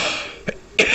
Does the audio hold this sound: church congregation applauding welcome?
no